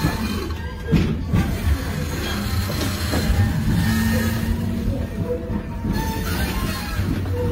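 Subway train riding along the track, a steady broadband rumble and rattle of the carriage continuing throughout, close and fairly loud, with faint background voices.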